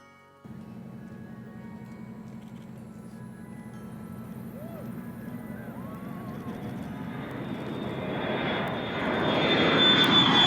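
A Virgin Galactic test flight: a steady aircraft engine drone starts abruptly and holds, then swells into a louder, rougher roar near the end.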